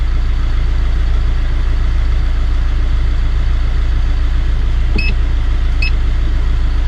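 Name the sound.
Kia Pride car engine idling during diagnostic scan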